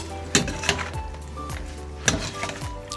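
A spoon stirs and clinks against a pot of shrimp curry mixture with fermented fish sauce, giving a few distinct metallic taps and scrapes in a close, quiet kitchen.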